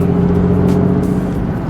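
A Nissan Z sports car's engine runs steadily close by, a continuous low hum with an even tone and no clear revving, heard on its own with no talking.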